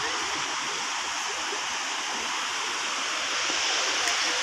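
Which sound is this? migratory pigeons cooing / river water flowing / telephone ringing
river water flowing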